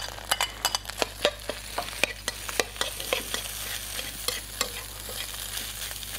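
Nasi goreng fried rice is stirred in a hot pan: a quick, irregular run of spatula scrapes and clacks over a soft, constant sizzle, close and fairly quiet, with no talking.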